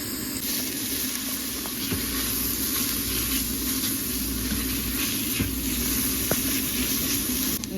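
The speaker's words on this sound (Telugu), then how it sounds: "ఆనియన్స్ ఫుల్ బ్రౌన్ అవ్వకుండా జస్ట్ ట్రాన్స్పరెంట్ అయ్యేలాగా ఫ్రై చేసుకోవాలి" Onions fry in a pan with an even, unbroken sizzle over a low steady hum, with a few faint clicks scattered through it.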